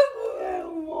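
A dog in the mountain country around Stanley, Idaho, gives a sustained, wavering howl that starts sharp and holds steady, close and clear with no talking over it.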